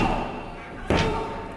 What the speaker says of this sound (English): Oh, Uranagi backbreaker.